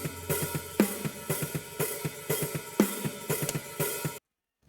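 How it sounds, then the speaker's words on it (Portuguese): Drum overhead microphone track soloed in a rock mix, with bright crashing cymbals over steady snare and tom hits in a driving rhythm that ends abruptly in silence. "Basicamente esse é o som dos overheads."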